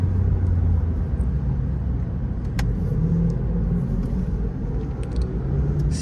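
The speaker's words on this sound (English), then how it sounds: "See there, I downshift a little too early." A car engine rumbles steadily from inside the cabin while driving, with a slight shift in pitch around a downshift, the hum continuous and fairly loud throughout with no talking.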